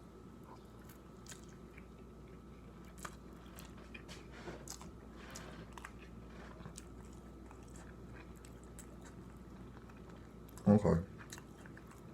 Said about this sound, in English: Now I'm gonna try a bite with the noodles and the mac and cheese hot Cheetos.